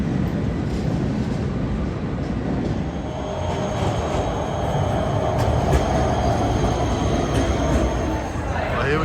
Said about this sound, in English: here we go down into the subway. We're gonna take a train ride.